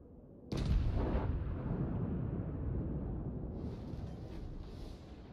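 Yamato battleship secondary guns fire in a naval video game: one heavy, booming blast lands suddenly after a brief quiet, then a long rumbling roar and echo fills the rest, with no talking.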